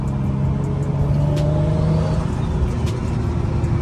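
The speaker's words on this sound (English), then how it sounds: "I absolutely love how this turbo sounds." An Infiniti G37 fitted with a single turbo kit revs steadily and loudly up close, its engine drone continuous throughout with a rising pitch, no talking over it.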